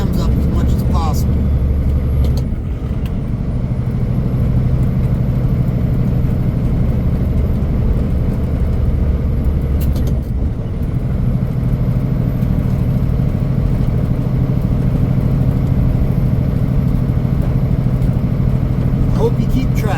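Vehicle engine held at high RPM at the start of the Dalton Highway, a loud steady drone running throughout with brief dips near 2.5 and 10 seconds, as the revs shift.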